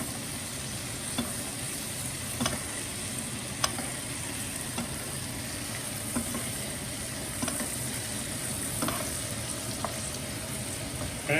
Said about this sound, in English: so now I'm going to baste it. I want to get it nice and covered with all that butter